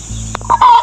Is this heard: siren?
no